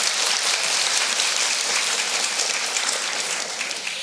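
A political audience applauds, a dense wash of clapping from many people, steady and moderately loud, easing slightly near the end.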